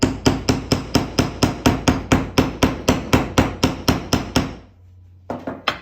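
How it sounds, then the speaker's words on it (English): Regular, sharp metal hammer strikes on a wire-wrapped Celtic-style pendant frame resting on a block, about sixteen even blows in quick succession, close and loud, then a pause and a couple of lighter taps. "So I will quickly hammer,"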